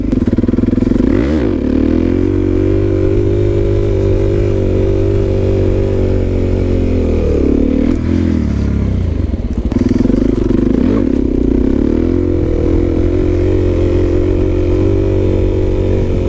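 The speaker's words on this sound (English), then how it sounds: "listen to the RPMs as I'm popping this wheelie" A motorcycle engine holds steady high revs during a wheelie, droning loud and close with slight rises and falls in pitch as the throttle is eased, alone without talk.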